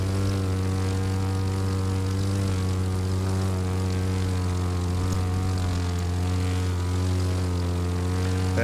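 A propeller airplane in The Crew 2 racing game drones steadily throughout, a loud, close, continuous engine hum with strong even harmonics and no speech.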